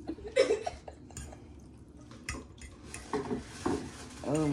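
Utensil stirring ramen noodles in a bowl, with irregular clinks and scrapes against the dish and soft wet sounds, fairly close and moderately quiet.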